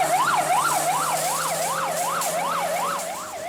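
A fire engine siren wails in a fast rising-and-falling pattern, loud and close, over a low steady engine tone as the truck heads to a burning bus.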